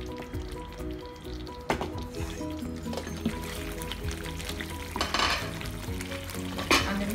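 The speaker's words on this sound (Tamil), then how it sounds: "இதில் நம்ம வதக்கி வச்சுக்கிறேன் கத்திரிக்காய் சேர்த்துடலாம்" Brinjal sautéing in hot oil in a pan for biryani brinjal masala, with a steady close sizzle and frying crackle broken by a few louder stirring scrapes, with no talking.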